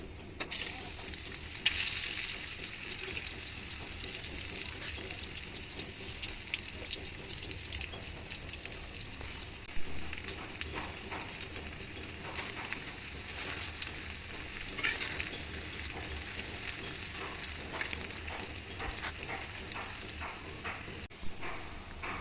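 Cauliflower pieces dipped in beaten egg frying in hot oil give a steady, fairly quiet crackling sizzle that runs continuously with occasional louder pops, heard up close.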